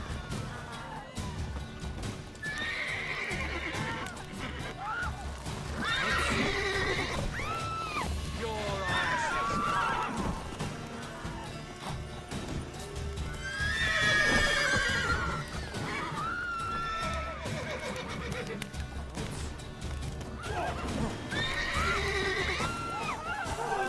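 A horse whinnies several times over repeated clip-clopping hooves in The Witcher 3: Wild Hunt, with a busy game background and occasional louder bursts.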